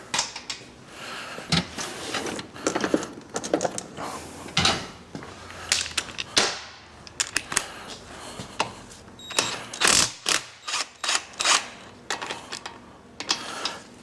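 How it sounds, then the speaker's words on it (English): Wrench work on the chain tensioner of a 1974 Harley XLCH Sportster chopper during primary and clutch removal: a close series of sharp metallic clicks and clanks in irregular bursts, with short pauses between them and no talking. "I guess I should loosen that chain tensioner too."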